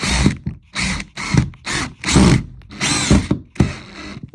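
A power drill drives a screw from a Squeeeak No More floor repair kit, firing in a series of short, loud, close bursts of whirring with brief pauses between them.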